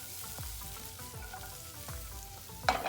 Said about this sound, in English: I can hear our onions and cabbage starting to sizzle